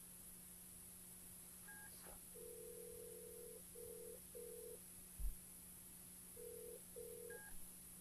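A telephone is dialed in a TV drama scene, a string of steady touch-tone beeps in short bursts over a constant hum, with brief higher tones at the start and end and a single low thump partway through.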